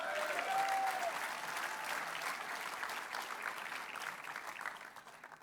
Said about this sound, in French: vous pouvez l'applaudir, dis, allez-y.